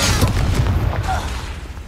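Confringo blasting spell explosion in Hogwarts Legacy during a duel: a heavy, booming blast with a rumbling low-end tail that slowly decays, loud and close, with game voices mixed in.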